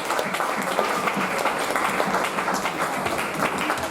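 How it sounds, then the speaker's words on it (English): An audience at a talk on the Gullah/Geechee and Bajan journey breaks into brief, lively applause, irregular clapping filling the room at moderate loudness. "Give her a round of applause."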